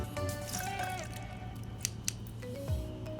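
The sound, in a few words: squeezing a lemon half into a mixing glass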